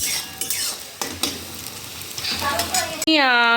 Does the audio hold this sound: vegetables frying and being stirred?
yes